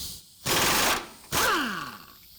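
An impact wrench removing the lower control arm bolt nuts on a 2017 Ford F-150 4WD: two loud, close, rattling bursts about half a second each, the second winding down into a falling whine.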